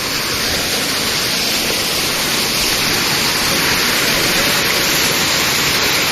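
Steady, loud rush of flowing water fills the whole clip without a break, a continuous broadband roar like a nearby stream or small waterfall.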